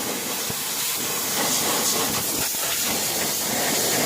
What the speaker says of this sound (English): I'm spraying the oil filter housing now